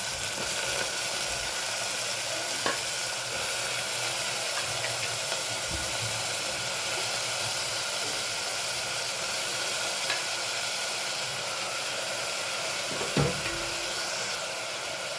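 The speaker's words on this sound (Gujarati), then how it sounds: "સાથે સાથે આપણે ડુંગળી અને બટાકા પણ એડ કરી દઈએ" Onions and potatoes frying in a pan, a loud, continuous sizzle and hiss lasting throughout, broken by a couple of brief clicks or utensil knocks, with no speech.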